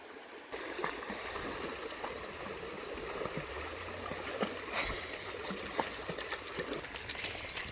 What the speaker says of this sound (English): A little creek crossing there.